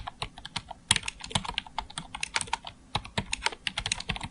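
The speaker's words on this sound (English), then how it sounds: "I'm going to click once and just start typing." Fingers type on a computer keyboard in quick, uneven bursts of crisp clicks with a couple of brief pauses, close and fairly quiet, with no voices.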